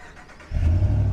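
A 2022 Ram 1500 Rocky Ridge pickup engine fires up by remote start, a quiet lead-in giving way at once to a loud, steady low rumble of idling.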